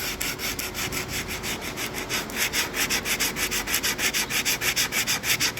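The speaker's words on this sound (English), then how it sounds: "You got an oscillating spindle sander? This is a great tool." Steady, close-up sanding of a wooden guitar body on an oscillating spindle sander, with a rhythmic rasping pulse that grows stronger and more regular over several seconds, with a machine hum underneath.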